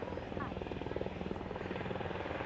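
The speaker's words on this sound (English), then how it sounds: "Two helicopters simulating what it would be like to refuel in the air." Two helicopters at the Miami Beach Air & Sea Show simulate aerial refueling, rotors chopping in a rapid, steady pulsing thrum, loud and continuous, with a voice briefly audible underneath.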